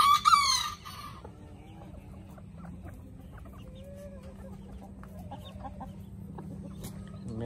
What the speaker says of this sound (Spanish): acá está la gallina esta con sus pollitos